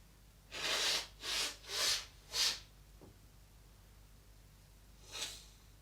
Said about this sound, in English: Oh, I've got to blow my nose.